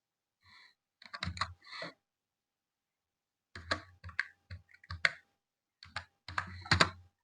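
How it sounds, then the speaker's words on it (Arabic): A Wi-Fi password is keyed in on a computer keyboard: close, scattered clicks in two quick bursts separated by a few seconds of silence. "هتيجي تدخل الرقم السري اللي موجود على القطعة بتاعت حضرتك"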